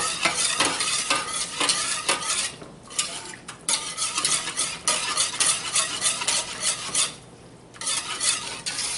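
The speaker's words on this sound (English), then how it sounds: "now I want to continue to stir it until it thickens up" A spoon stirs a thickening mixture in a pan: continuous close scraping and swirling strokes with short pauses, over a sizzling cooking hiss.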